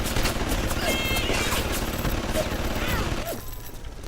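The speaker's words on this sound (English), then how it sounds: "we're just gonna let our turrets do its work there" Automated security turrets in the game Bioshock fire steady sustained bursts of gunfire, dense and continuous throughout, with a low rumbling bed underneath and a brief whirring mechanical sweep near the end.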